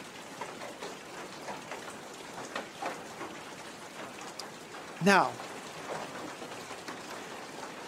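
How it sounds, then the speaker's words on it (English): Steady rain falls on a cold, rainy day, a continuous soft hiss of drops with a sharp louder burst midway. A voice speaks briefly over it. "it gets a little bit cold. We shiver a little bit, and it starts to rain"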